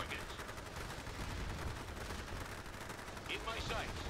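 Gunfire from units opening fire in the real-time strategy game Forged Battalion, a dense continuous clatter of shots and explosions under game voice lines.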